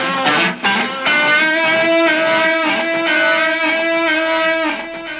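Electric guitar through a BOSS GX-700 multi-effects processor set to a reverb preset: loud strummed chords ring out with long, washy sustained tails and no voices.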